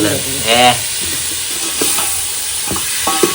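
Minced mutton sautés in masala on a wood-fired stove, sizzling and hissing steadily up close, with a few stirring clanks and brief voices breaking in briefly above it.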